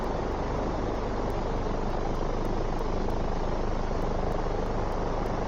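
In X-Plane 11, an Alabeo M20R Ovation idles on the runway at Heraklion, Greece, its propeller engine giving off a constant, even, buzzing drone with no speech over it.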